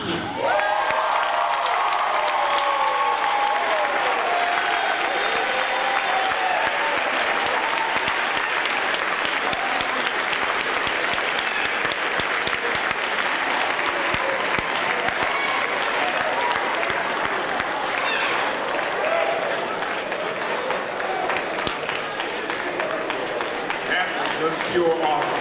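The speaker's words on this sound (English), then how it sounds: "Another round of applause." A large university audience at Central State University gives Al Sharpton sustained applause, dense and even throughout with scattered cheers mixed in.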